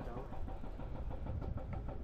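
An enduro motorcycle engine on the Patiis Enduro Challenge 2025 course drones steadily and fairly close throughout, with a rough low rumble under people talking and shouting.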